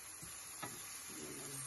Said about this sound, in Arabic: ها هي كنشحو البصله